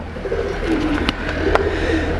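Pigeons cooing on a rooftop in Lahore, a few soft low coos repeating over a steady hum, with brief sharp clicks cutting through.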